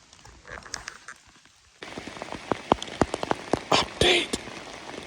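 Heavy rain pounds down outdoors during an Indiana archery deer hunt, a dense steady patter with sharp nearby drops and splashes, growing louder partway through.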